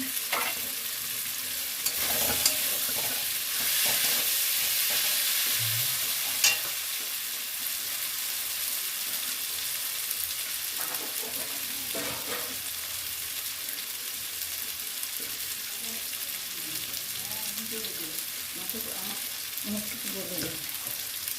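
Bay leaves sizzle in hot oil in a pan for a Bengali yogurt fish curry with katla fish, giving a steady, close, bright hiss with occasional stirring scrapes and a soft voice now and then.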